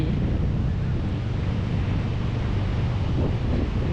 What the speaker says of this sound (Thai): คลื่นทะเล